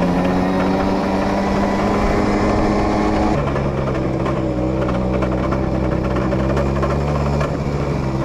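A small 70cc two-stroke moped engine runs loud and close with a buzzing, raspy tone. Its pitch drops partway through and then settles into a steady idle-like drone.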